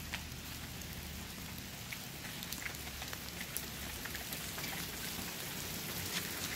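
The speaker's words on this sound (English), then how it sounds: "Well, I just wanted y'all to see my rain." Heavy rain pours steadily outside, a dense, even hiss with scattered sharper drops hitting surfaces, continuous and fairly close throughout, with no talking.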